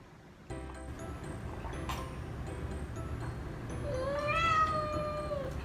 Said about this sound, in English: You hear my kitty? She's crying for me.